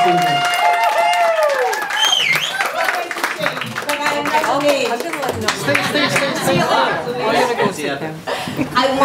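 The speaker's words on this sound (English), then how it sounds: "Let's give her a nice, warm round of applause." Wedding reception guests at Fritz Farm give the maid of honor a warm round of applause, with loud sustained clapping mixed with crowd chatter, chuckles and talking voices throughout.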